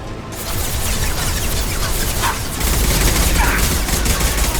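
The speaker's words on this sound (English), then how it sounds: "Firing an impact shot!" Impact-shot gunfire in the Mass Effect 2 video game comes as a dense, continuous roar of shots and blasts, loud and steady throughout with slight surges toward the end.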